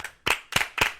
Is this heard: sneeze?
no